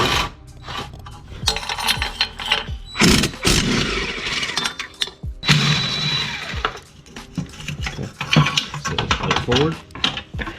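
A ratchet loosens the exhaust header flange nuts on a Kawasaki Ninja 650 with clicking bursts and metallic clatter close by, while someone talks over the work.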